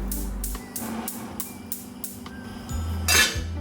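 A pot is handled with metallic clinks and knocks while water is poured in for boiling Shin Ramyun noodles, a short run of close kitchen clatter with a brighter splash near the end.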